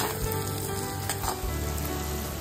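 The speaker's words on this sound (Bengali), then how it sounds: "এবারে এর মধ্যে দিয়ে দিচ্ছি হলুদ, লঙ্কার গুঁড়ো আর পরিমাণ মতো নুন। এবার একটুখানি এই মশলাটা ভেজে নিয়ে" Turmeric, chili powder and salt frying in oil with melted fish pieces for a Bengali oil koi curry, giving a steady, close, dense sizzle that runs unbroken throughout with no talking.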